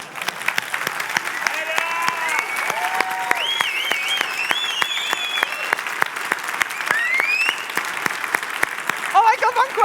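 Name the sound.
audience applause at a conference talk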